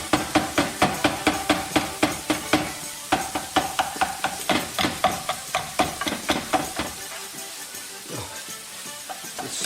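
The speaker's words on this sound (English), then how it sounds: "We bash them up, break them up" Courgettes being bashed and broken up in a pan with garlic and olive oil: a rapid, steady series of sharp knocks and scrapes over a continuous sizzle, loud and close, with no talk.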